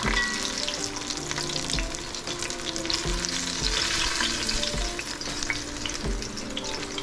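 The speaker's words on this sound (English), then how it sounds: "using the same oil, we'll fry off the potatoes" Potatoes frying in very hot oil reused from an earlier batch for a Bengali muri ghonto, a steady close crackling sizzle with occasional stirring scrapes throughout, no voices.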